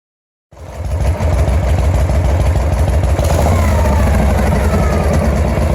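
A motorcycle engine fires up abruptly and settles into a loud, steady idle with an even, throbbing pulse, close by and alone.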